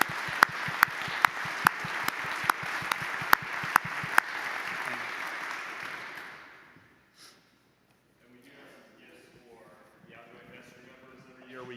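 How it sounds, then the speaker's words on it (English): A room full of people applauds outgoing committee members at an annual meeting, with steady clapping for several seconds and a few sharp claps standing out. The applause fades out and talk follows. "Just a round of applause for their contributions over this past 3 years."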